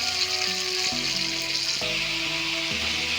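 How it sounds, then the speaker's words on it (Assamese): A soft, continuous sizzle of potatoes frying in a pan runs in the background beneath a steady tonal hum that shifts pitch in steps. "আলুখিনি অলপ ভাজি থাকিম"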